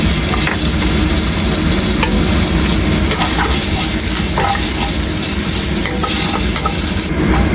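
Minced garlic sautéing in hot oil in a pan gives a loud, steady, close sizzle throughout, with occasional soft scrapes of a spatula stirring; no voices.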